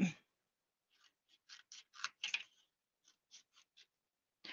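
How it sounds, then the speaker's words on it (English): Scissors snipping cream-colored paper strips for a mixed media canvas, a quiet, close series of short crisp cuts, some in quick clusters, with silent pauses between. "I'm going to cut skinnier pieces as like an accent type of a deal"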